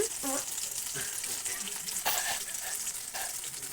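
Ground cumin paste hitting hot oil in a pan for a mutton curry, a loud close sizzle with stirring scrapes and brief clinks, continuous throughout.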